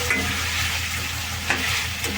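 Chicken frying in a pan with garlic crushed in a stone mortar, a steady close sizzle running throughout with a few soft stirring scrapes at intervals.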